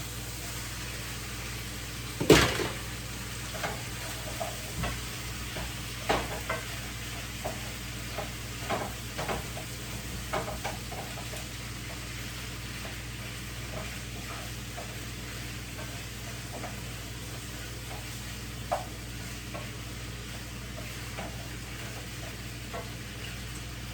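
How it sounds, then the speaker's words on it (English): Pasta tossed in a pan for a chicken and pasta dish, a long steady sizzle with intermittent stirring scrapes and clinks, close and moderate in level. "Here I'll add my pasta."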